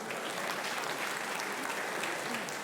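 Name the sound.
audience applause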